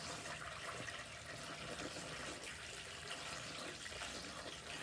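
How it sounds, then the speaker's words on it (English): Coolant being poured into the cooling system of a Wanderlodge bus with a Detroit 8V92TA engine, a faint, steady rushing and gurgling of liquid filling, continuous with no talk. "He's pouring 24 gallons in right now."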